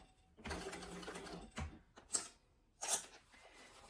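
A sewing machine stitches around the gusset of a fabric sling bag in short, separate bursts with pauses between them, fairly quiet and close, with no talking.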